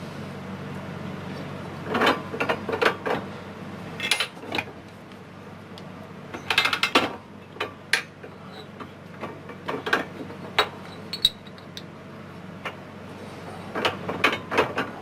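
An arbor press seats bushings into an ATV Mattracks track part, giving scattered sharp mechanical clicks and clunks, some in quick clusters, against a quiet shop with no talking.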